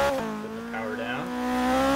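A Subaru BRZ in Forza Horizon 3, set up as a rallycross build, holds a steady engine drone while its tires squeal and skid through a wavering pitch after the e-brake is yanked, loud and close throughout.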